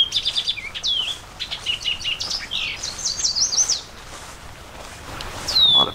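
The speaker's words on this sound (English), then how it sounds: "Beautiful birds singing." Many birds sing and chirp at once, a busy overlapping chorus of bright, high trills and tweets against a soft outdoor background at Bald Eagle State Park, Pennsylvania.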